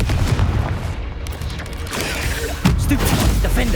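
Confringo fire spell blasts in Hogwarts Legacy, heard as loud booming bursts and impacts in a dense game soundscape of repeated explosive hits with mechanical clatter throughout.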